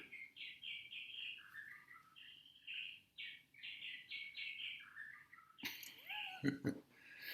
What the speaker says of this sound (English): Some warbler or something